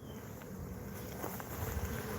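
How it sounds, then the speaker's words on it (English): Bees swarming inside a hive cavity at a mobile home give a steady, low, close buzz that swells slightly toward the end, with no voices. "See all the bees in there?"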